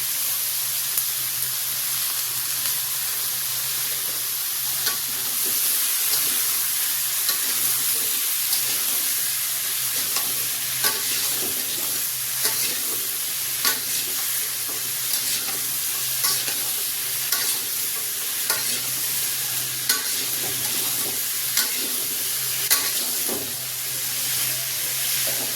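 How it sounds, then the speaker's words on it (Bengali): Potatoes frying with turmeric powder and salt, a steady close sizzle running throughout with occasional scrapes and knocks of a spoon stirring the pan; no voices. "এবারে হলুদ গুঁড়ো আর লবণ দিয়ে আলুগুলো ভেজে নেব।"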